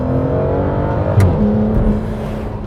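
A 2015 Aston Martin DB9 GT's 6-litre V12 revving loudly and close, a deep throaty engine note that rises and shifts pitch with a brief sharp crackle midway, sustained throughout.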